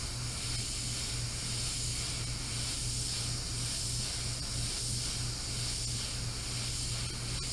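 An Iwata Eclipse CS airbrush sprays paint with a steady, unbroken hiss that stays loud and even from start to finish, with a faint low hum underneath.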